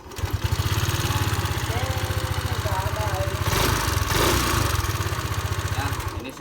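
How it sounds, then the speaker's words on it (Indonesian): A Yamaha Aerox motor scooter engine runs steadily after its faulty CKP crankshaft position sensor was replaced, with a close, even idle pulse that continues throughout, and a brief rev or clatter around the middle. "ini sekarang motor kembali hidup lagi karena sensor CKP-nya yang rusak"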